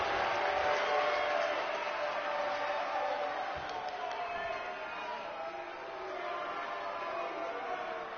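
Wrestling arena crowd roaring and cheering during a Ring of Honor match, a steady dense wash of voices from a large audience, fairly distant, with a commentator talking over it.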